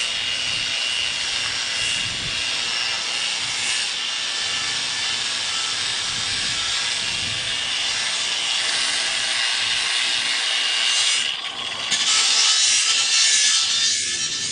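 A polisher runs continuously with a steady whine and rubbing hiss as grit pads polish a granite countertop for an undermount sink, loud and close, then pauses briefly before spinning back up.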